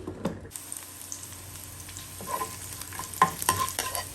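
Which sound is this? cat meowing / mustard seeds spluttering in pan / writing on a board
mustard seeds spluttering in pan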